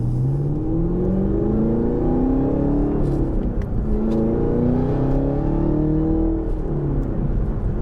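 A Gen6 Camaro with its air intake opened up revs continuously and loudly nearby, the engine note climbing and falling in repeated sweeping waves over a steady rumble for several seconds.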